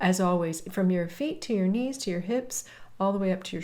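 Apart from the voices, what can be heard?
None of the usual background noises is heard.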